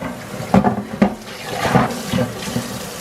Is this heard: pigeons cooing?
no